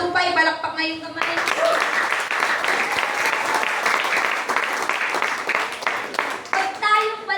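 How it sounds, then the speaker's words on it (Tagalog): Church congregation clapping hands during a preaching service, a loud sustained burst of many hands clapping together, with speech audible briefly before it starts and after it fades. "mga tupay, palakpak na yung kamay."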